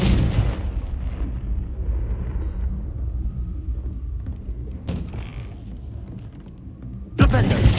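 Confringo blasting spell from Hogwarts Legacy, a rumbling explosive roar that fades into mechanical creaks, with sharp cracks near five seconds and a sudden loud final blast near the end; game voices murmur underneath.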